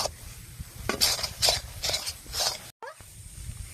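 A spoon scrapes and knocks against a pan in repeated strokes, about one every half second, as homemade chhena is stirred dry for sandesh, with a faint sizzle underneath and a brief cut near the end.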